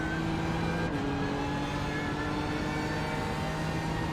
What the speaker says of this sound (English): Why does the car sound like it's punching when turning?